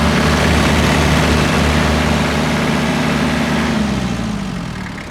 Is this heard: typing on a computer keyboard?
no